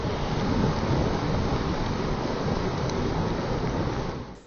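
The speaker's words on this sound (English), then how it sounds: "it begins to rain." Steady rain pours down in a broad, continuous hiss over a rural frontline area in Manipur, loud and even throughout before fading out at the very end.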